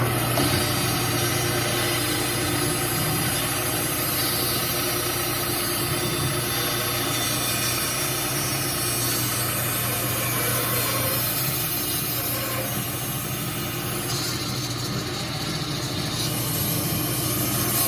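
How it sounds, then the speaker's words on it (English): A table-mounted power saw with an auxiliary table runs steadily while cutting through a wooden piece, a continuous loud grinding drone with shifting rasp over the whole stretch and no talking. "I'm going to turn on the saw."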